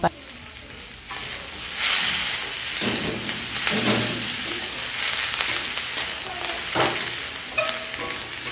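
Green chilli, spices, ginger, bay leaf and tomato fry in hot oil for ghugni, giving a steady close sizzle with repeated scraping stirs throughout.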